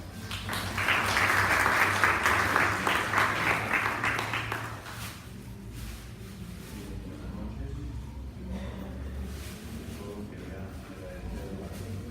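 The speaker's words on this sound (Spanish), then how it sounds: "Démosle un fuerte aplauso, por favor." An audience at a legal training lecture applauds the speaker, clapping loudly for about four seconds before it fades, followed by someone talking over quieter room noise.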